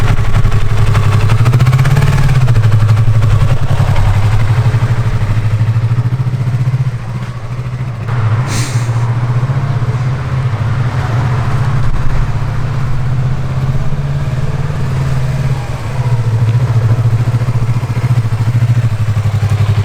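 Someone rides their first motorcycle around a neighbour's grounds. The engine drones loud and close without a break, with a low steady rumble that rises and dips slightly as the rider moves along.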